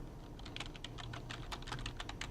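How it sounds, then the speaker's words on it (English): Rapid keystrokes on a computer keyboard while typing in a document, a dense irregular stream of light clicks over background hum, near and moderately quiet, with no voices. "it'd be nice if I can type here"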